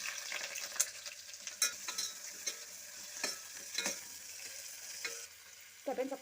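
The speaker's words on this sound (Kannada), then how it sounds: "ಈಗ ಈರುಳ್ಳಿ ಹಾಕ್ತಾಯಿದ್ದೀನಿ." Onions go into ghee and oil with whole spices for tomato bath, a soft, fairly faint sizzle under intermittent sharp clacks of a spoon against the pan, without speech.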